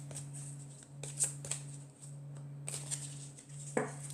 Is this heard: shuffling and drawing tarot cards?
yes